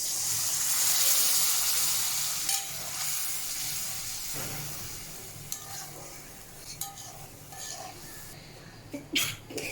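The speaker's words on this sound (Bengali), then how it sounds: "এবার এর মধ্যে জল দিয়ে দেবো।" Water is poured into a hot pan holding rohu fish curry, setting off a loud steamy hiss and sizzle that fades, followed by scattered clinks of a spoon against the pan.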